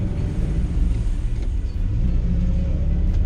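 Car with a three-on-the-tree manual column shift driving along a road, a steady low engine rumble and road noise holding throughout with no break.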